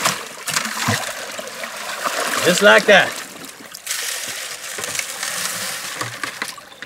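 Water is poured and splashed over a sluice box while panning for gold outdoors, with a brief burst of gurgling splashes in the middle and someone talking over steady rushing water.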